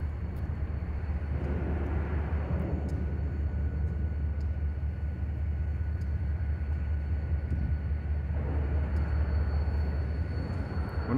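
A Norfolk Southern mixed manifest freight train departs, its steady low rumble and rolling rail noise continuous throughout with faint higher squeals and clanks.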